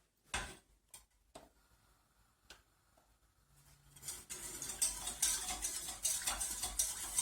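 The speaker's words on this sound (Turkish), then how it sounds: "Kaynayana kadar karıştırıyorum arkadaşlar" Red lentil soup stirred in a pot as it comes to a boil, a few sharp utensil clicks and taps at first, then a steady busy rush of bubbling and scraping movement that grows louder and fills the last few seconds.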